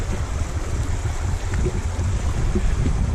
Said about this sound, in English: So most of the trail has had running water on it.